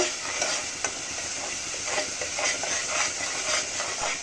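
Shahi roast sautéing with cumin powder in a pan, a steady broadband sizzle with repeated stirring scrapes and clinks throughout, close and fairly loud, no voices.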